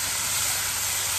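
Home fries with onions fry in a pan with a continuous loud, even sizzle and hiss, and no clear stirring strokes stand out.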